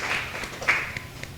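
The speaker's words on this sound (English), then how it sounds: "Hand clap of praise for LMG" An audience gives a short burst of hand claps in praise at an LMG Book Club gathering, a few scattered sharp claps over about a second and a half rather than sustained applause.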